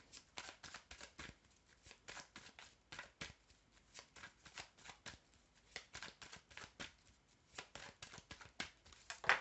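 A deck of tarot cards is shuffled and cut by hand, producing a quiet, close series of rhythmic papery riffles and slaps that repeat steadily throughout.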